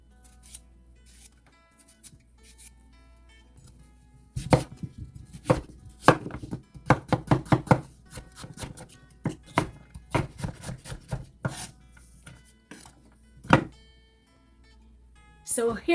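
A Nakano (Mito) kitchen knife chops on a board in irregular bursts of crisp, close knocks and slicing strokes, separated by quieter pauses, with faint speech in places.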